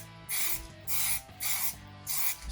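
A spray can lays light coats of black paint on a guitar neck in four evenly spaced, close hissing bursts separated by short pauses.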